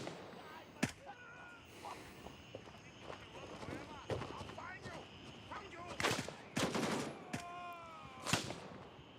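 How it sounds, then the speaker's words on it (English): Scattered gunfire from the video game Gray Zone Warfare, several sharp shots at irregular intervals, some louder and closer, mixed with fainter distant cracks under steady ambient background. "We're getting shot at."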